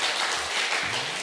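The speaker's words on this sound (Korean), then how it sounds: "우리 다 같이 환영하는 박수를 좀 보내십시다" A church congregation claps together, a brief burst of dense, even applause at moderate volume.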